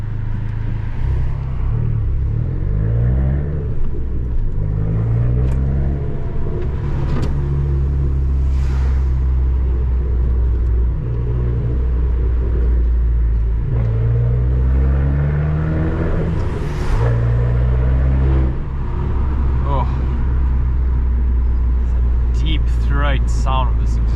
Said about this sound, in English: Sound of this exhaust is crazy.